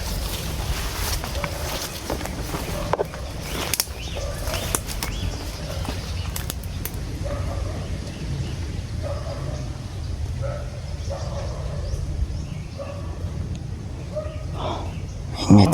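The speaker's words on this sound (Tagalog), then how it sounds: "talaga walang tigil sa katatahol" A dog barks repeatedly at a distance in short bursts, over a steady rumbling background with occasional clatter.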